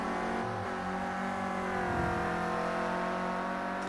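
A Clio race car engine in a PS4 racing game, lapping Knockhill through Island Bend, holds a loud, steady buzzing drone with a brief dip and swell in the middle, heard alone.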